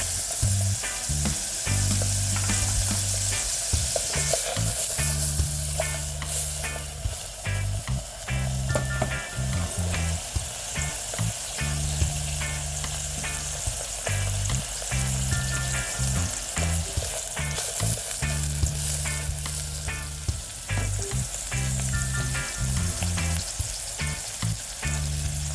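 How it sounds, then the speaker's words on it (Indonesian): Garlic and spices for spaghetti aglio sizzle loudly in a hot pan for nearly half a minute, with frequent close scraping and stirring strokes and no talking. "Kita tumis hingga layu"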